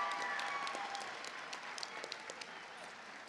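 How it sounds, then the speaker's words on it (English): Audience applause at a college commencement ceremony in Central Arizona, a dense burst of clapping that gradually thins and fades, ending in scattered individual claps. "How about one more round of applause for Bobby Davis?"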